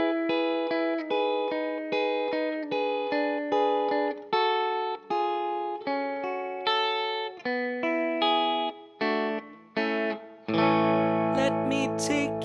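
Electric guitar picks out a steady run of arpeggiated chords imitating a mellotron intro, each note plucked cleanly with a bright effects-laden tone, ending in a sustained strummed chord.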